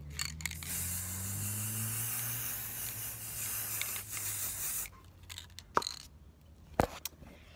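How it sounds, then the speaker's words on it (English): A spray bottle filled with a 50-50 mix of water and cheap vinegar hisses steadily for several seconds as it mists over a spray-painted bottle, followed by a few short, sharp spritzes and light handling noises. "Now you take a spray bottle that has about 50-50 water and vinegar, any vinegar, the cheapest one you can find, and you spray the bottle."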